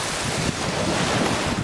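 Wind gusts buffet the microphone by the sea at Phaselis, Antalya, a dense broadband roar with surf washing underneath, loud and continuous with no talk.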